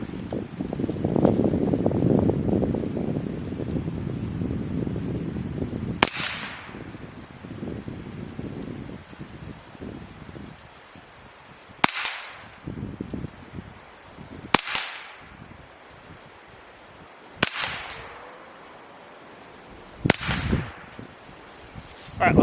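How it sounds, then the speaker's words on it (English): An integrally suppressed Keltec Sub CQB 9mm folding carbine fires a 5-shot group outdoors in wind. Five sharp, muffled cracks come a few seconds apart, each with a brief fading tail, after an earlier stretch of low rumble. "Of the 5-shot group I just shot"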